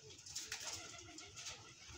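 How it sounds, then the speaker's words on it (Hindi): Soft pigeon cooing close by, a low murmuring call repeated over a steady background hiss, with faint rustling of wings. "ये बहुत नायाब कबूतर है माशाल्लाह"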